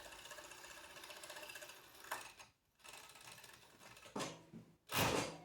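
Overlock sewing machine finishing a seam, quiet rapid mechanical chatter that stops and restarts in short bursts, close and faint, with no voices.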